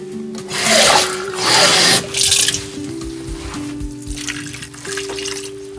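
A glass of water is poured over layered pork and potatoes in a home kitchen, giving two close, loud splashing bursts followed by quieter trickling and faint rubbing sounds.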